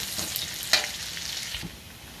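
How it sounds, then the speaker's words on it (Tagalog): Garlic sizzles steadily in a hot pan for sautéing pork with cauliflower and vegetables, a close bright frying hiss with a few sharper pops and stirring scrapes. "Gigisa na tayo. Ulit. Ayan, bawang. Huwag lang tumilamsik."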